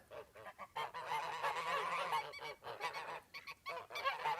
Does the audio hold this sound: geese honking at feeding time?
yes